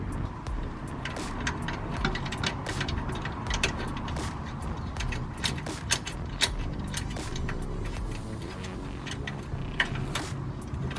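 A nut is run onto a long bolt during a Ford Focus RS rear differential cooler install, a quiet, rapid series of ratcheting clicks and metallic ticks that continues unevenly without talk.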